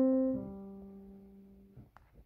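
An acoustic guitar plays part of a song riff: a plucked chord rings out near and clear, then fades over about two seconds, ending with faint finger and handling noises.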